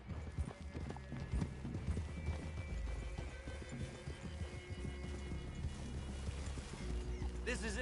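Several horses clip-clop on a trail in Red Dead Redemption 2, their hoofbeats a dense, steady, close patter with a brief whinny near the end.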